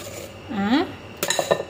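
Orange cake batter is mixed in a bowl, with a utensil scraping and clinking against the bowl in short, close, bright knocks.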